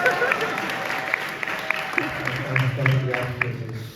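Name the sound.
audience applauding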